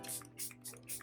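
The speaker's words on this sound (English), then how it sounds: "I'm just gonna take my setting spray first actually and then spray it" Makeup setting spray misted from a pump bottle onto a face, four quick soft hissing bursts in an even rhythm, close and fairly faint.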